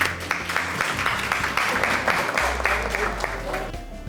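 Audience applause fills a poetry recital hall at an Eid mushaira, dense and steady throughout, with voices murmuring underneath.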